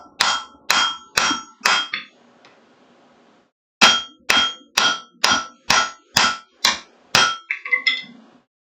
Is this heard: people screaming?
no